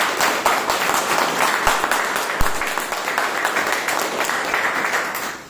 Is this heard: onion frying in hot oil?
no